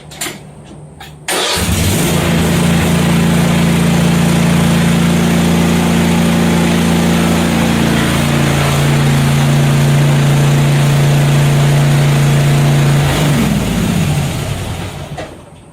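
A Cub Cadet ZT1 Ultima zero-turn lawn mower with a 42-inch deck starts up after a click, then its engine runs loud and steady close by as it drives off a shipping pallet, winding down near the end.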